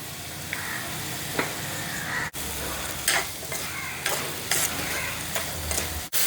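Shallots, about 300 grams of small red onions, sautéing with salt in a pan for a crab dish, a steady close sizzle broken by repeated stirring scrapes and brief gaps.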